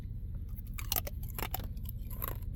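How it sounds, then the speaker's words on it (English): Someone chews a stick of 1989 Bowman trading card gum near the mic, the crunching steady and close over a low background hum. "Let me see what Bowman's gum tastes like."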